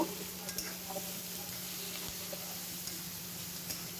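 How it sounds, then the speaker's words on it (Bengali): Sliced onions with salt fry in a pan, a soft, steady sizzle with a few faint scrapes and clicks of stirring, fairly quiet throughout. "পেঁয়াজে লবণ দিয়ে দেব লবণ দিয়ে আবারও ভালো করে ভেজে নেব"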